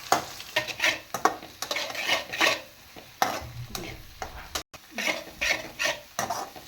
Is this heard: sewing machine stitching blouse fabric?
no